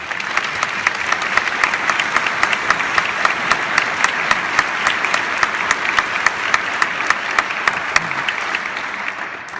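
A graduation audience at a School of Public & International Affairs ceremony applauds steadily for the full stretch, a dense wash of many hands clapping at a constant, fairly loud level with no talk over it.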